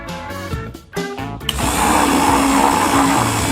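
A kitchen blender whirs into action mixing squeezed lemon, lime and water, a loud steady motor roar after a second and a half of other noise, close and sustained with no talk over it.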